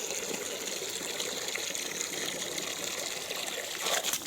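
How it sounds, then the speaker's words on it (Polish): Water pouring into a bucket for farm animals during morning chores, a steady close gushing stream that continues throughout without talk. "takie wiaderko prawie codziennie muszę nalać każdej"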